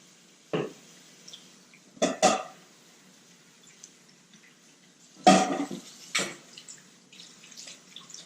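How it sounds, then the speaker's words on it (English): Water from a kitchen tap runs in short bursts as hands are washed after handling raw red grouper. The splashing comes close and loud in brief gushes separated by quiet gaps. "I'm going to go and wash my hands again so I don't have grouper all over it"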